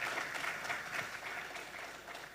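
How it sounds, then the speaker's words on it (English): A conference audience applauds its panelists with a dense, sustained round of clapping from many hands, steady and fairly close, with no talking over it. "Thank you for clapping for them."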